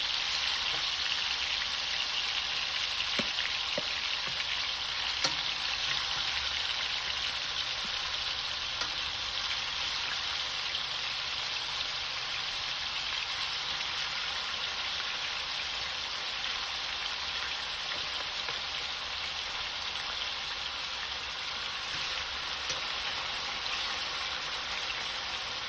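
Pieces of oxtail browning in hot oil in a pot, with a steady, even sizzle and crackle that continues without a break and with no talking.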